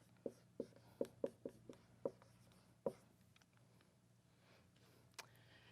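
A pen or marker writes out a logic proof on a board, a series of short sharp taps and strokes in quick irregular rhythm, then a pause and one last isolated stroke, close and clear with no talking.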